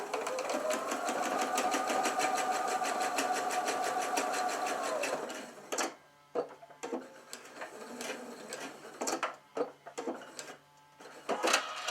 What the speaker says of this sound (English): I'm going to sew the back part and leave the hole just like I did the first one